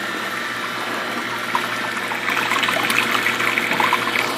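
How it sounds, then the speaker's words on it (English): Water pours and trickles steadily into a 230-gallon reef aquarium sump set up in a garage, a continuous close splashing rush that grows a bit busier partway through. "So the water just flows in here."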